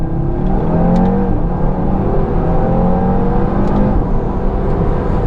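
A 2018 Audi RS3 with an APR Stage 1 tune on E85 revs and pulls hard, its roar rising in pitch through the gears, loud and close throughout.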